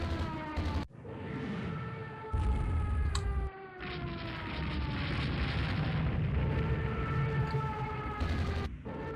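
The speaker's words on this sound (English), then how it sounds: "Bomb hit on one of our destroyers. Another one explodes." Naval battle in Rule the Waves 2: bomb hits on a destroyer and another ship exploding, heard as heavy booming blasts over a sustained roar with tonal, siren-like whines running through the whole stretch.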